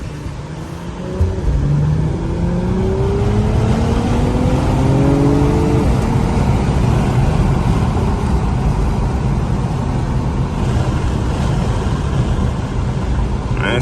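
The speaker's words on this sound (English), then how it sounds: "it also has a turbo in it that just be whining like a mother" Acura TLX Type S accelerating hard in traffic, its turbocharged engine roaring loudly with rising tonal whines sweeping upward through the gears, heard from inside the car as sustained close-up engine noise.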